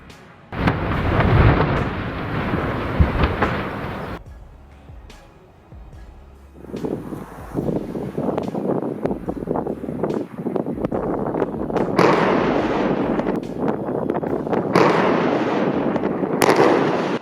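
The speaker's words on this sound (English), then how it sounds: "a wind turbine in Beckham was brought down in a carefully planned blast" A controlled demolition blast brings down a wind turbine in Beckham, heard as a loud rumbling explosion followed by a long stretch of crashing, roaring noise from the structure falling, with sharp bursts and a wind-buffeted microphone throughout.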